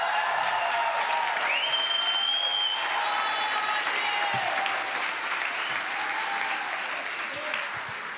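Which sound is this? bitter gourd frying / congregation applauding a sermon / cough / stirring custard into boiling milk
congregation applauding a sermon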